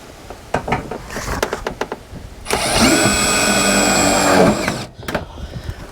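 A power drill drives screws into a workshop building roof under repair, starting with scattered close knocks and clicks, then a steady, loud whirring run of about two seconds that stops abruptly, followed by a few more taps.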